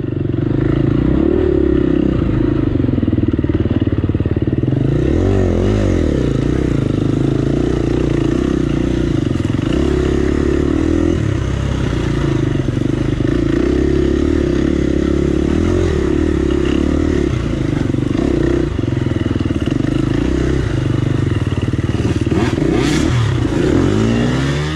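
A dirt bike engine revs hard throughout a hare scramble race through woods and over logs, a loud steady buzzing with rising and falling throttle and some clattering, close to the rider.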